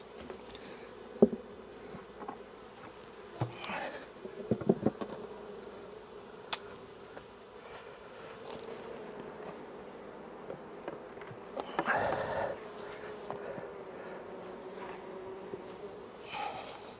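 Bees hum steadily around a partially filled feeding pail taken from a hive, a faint continuous buzz with individual insects flying close by in brief louder passes.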